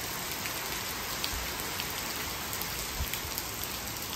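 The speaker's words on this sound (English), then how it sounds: "The rain is heavy and the water is high." Heavy rain pours steadily during Hurricane Idalia, a dense, even hiss of water on surfaces with no voices, faint and distant-sounding throughout.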